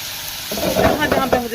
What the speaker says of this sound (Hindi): जैसे ही थोड़ा सा ऑयल गर्म होगा ना, मैं ये कबाब आहिस्ता आहिस्ता सारे इसके अंदर इस तरह जोड़ने शुरू कर दूँगी।